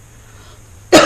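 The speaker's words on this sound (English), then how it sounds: "I didn't cough on my hand. I kind of coughed off to the side." A single sharp cough bursts out close by right at the end, after a near-silent room tone.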